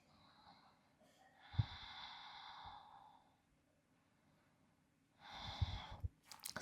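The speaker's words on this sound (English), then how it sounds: "Couple of more breaths." Slow, soft breaths during a yoga flow: two long, quiet exhalations like sighs a few seconds apart, close and faint, with no talking.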